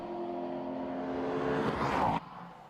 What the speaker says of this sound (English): It's a fantastic sounding V8 Aston Martin engine, thunderous noise.